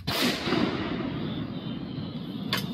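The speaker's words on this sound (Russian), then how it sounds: "Гармата вогонь! Острел." An artillery gun fires once with a heavy, close boom that rolls out into a long decaying rumble, followed by a sharp metallic clang near the end.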